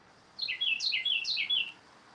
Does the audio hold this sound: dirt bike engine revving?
no